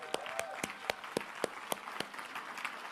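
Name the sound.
audience applause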